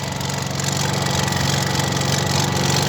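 Honda portable generator running outdoors, a loud, steady engine drone with a constant buzzing hum that stays unbroken and alone throughout.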